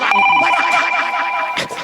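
A mobile phone rings with a bright, repeating electronic tone pattern, loud and close, for nearly two seconds, with a brief burst of other noise near the end.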